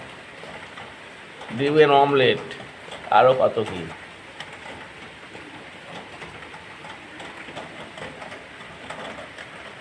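Steady rain falls throughout, a soft continuous hiss that carries on alone after a voice speaks briefly near the start.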